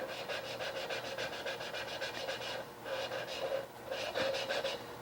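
Engine valve being hand-lapped with abrasive compound, a rhythmic rubbing, rasping scrape in steady back-and-forth strokes, with two brief pauses between bursts, close and moderately quiet.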